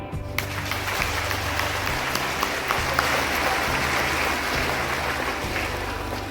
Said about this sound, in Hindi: एक बार सारे अचीवर्स के लिए ताली।